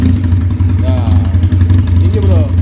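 A Benelli Patagonian Eagle 250 cc motorcycle with its carburettor being adjusted idles with a steady low, throbbing engine note close by while someone talks over it.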